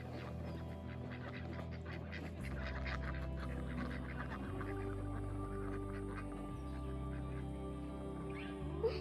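Ducks quack faintly on a farm after being let out of their pens in the morning, scattered calls barely rising above a steady low hum of background noise.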